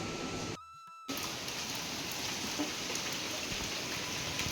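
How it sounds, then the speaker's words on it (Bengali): Heavy rain pours down in a dense, steady hiss, briefly cut off near the start before resuming at full strength. "দেখো বৃষ্টির ফোটাটা কি জোরে মানে বড় বড় পড়ছে"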